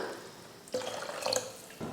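Water pours and splashes briefly into a pan of tamarind rasam on the stove, a short close trickle with a few drips and no speech.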